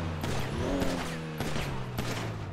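Gunfire erupts at a gas station in GTA V, with several sharp shots at irregular intervals layered over a sustained mechanical drone, loud and close.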